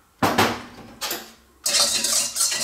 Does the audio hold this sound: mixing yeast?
yes